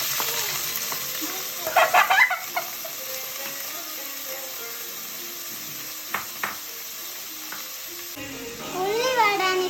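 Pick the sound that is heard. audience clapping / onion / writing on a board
onion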